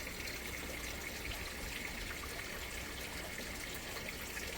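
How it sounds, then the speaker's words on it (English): Soft, steady trickle of running water, faint and continuous, with no voices over it. "Hear that water?"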